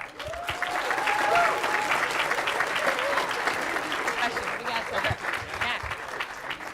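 A conference audience bursts into sustained, dense applause after a talk, a steady wash of many hands clapping close by for several seconds, with a voice faintly audible beneath it.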